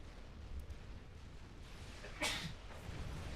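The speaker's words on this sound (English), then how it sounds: "I'm just like sneezing and coughing today." A single sharp sneeze bursts out near the middle, standing clear of a steady low background rumble.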